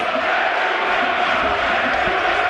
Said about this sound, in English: Good encouragement, as I say, from that crowd off to our right-hand side.